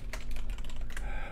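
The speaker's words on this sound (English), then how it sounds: "Can hear you typing." Fingers tap steadily and quickly on a computer keyboard during an online stream call, the clicks close and clear over a low background hum, with no talking.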